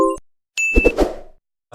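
Alert chime from a Kia K7 Premier's radar system signalling that the vehicle ahead has departed: a short tonal ding, then a bright sustained tone with a few low thuds, heard alone inside the car.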